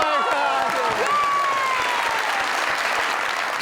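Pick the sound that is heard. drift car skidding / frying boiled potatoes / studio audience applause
studio audience applause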